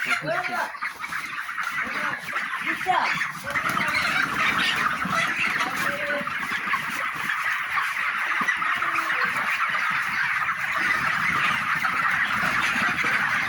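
A crowd of broiler chickens on a poultry farm clucks and chatters continuously, many birds overlapping in a busy, close, steady din, with faint voices now and then underneath.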